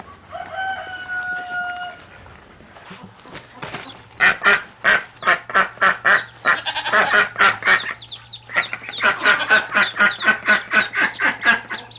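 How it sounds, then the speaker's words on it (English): Several baby ducklings in a bucket, loud close rapid peeping and honking calls in a dense repeated series, with a few whistling chirps before them and a low background hum, without any talking. "Bucket of ducklings."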